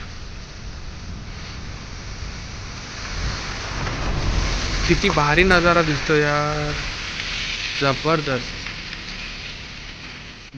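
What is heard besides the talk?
monsoon rain at Panshet Dam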